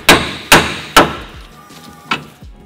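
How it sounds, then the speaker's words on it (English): Sharp metallic hammer strikes on a stuck steering knuckle of a Mazda Miata ring out, three evenly spaced blows followed by a fourth after a pause, loud and close. "smack here with a hammer and it falls out immediately"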